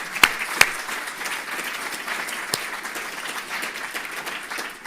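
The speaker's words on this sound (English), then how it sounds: "I think we all deserve a round of applause for that." An audience at the official launch of an epilepsy awareness program applauds. Steady clapping fills the room, with a few sharp, close claps standing out near the start.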